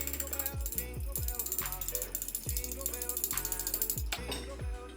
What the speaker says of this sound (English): I'll just go whisk this first.